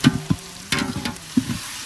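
Onions and tomatoes sizzle in a pan for village-style mutton biryani, with a steady frying hiss broken by a few stirring clatters close by, and no voices.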